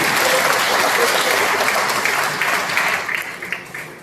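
A seated audience at a priests' awareness yatra meeting in Karimnagar claps together in dense, sustained applause that stays loud for several seconds before tapering into scattered, uneven claps at the end.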